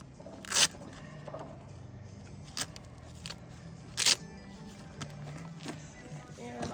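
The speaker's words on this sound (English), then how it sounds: "When we buckle them, we always want the Velcro to go towards the back" Velcro straps on a horse's leg boot are pulled open and fastened in several short, loud ripping bursts spaced a second or two apart, close by, over faint background movement and quiet talk.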